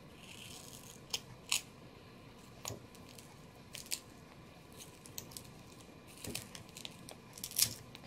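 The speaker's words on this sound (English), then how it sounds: "Use an old pair of scissors if you're cutting this" Sharp snipping and crinkling bursts at irregular intervals, several quick cuts close by over a low steady background hiss, with no talking.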